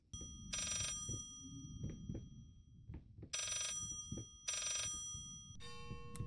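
An old telephone bell rings in repeated bursts inside the horror game Layers of Fear, loud and close, with dull thuds and footsteps between rings.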